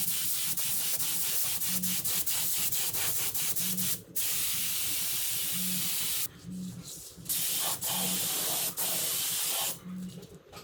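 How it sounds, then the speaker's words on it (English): Spray gun laying clear coat in a car engine bay, a loud steady hiss in long bursts broken by several short pauses. "he's mixing up the clear, gonna spray clear"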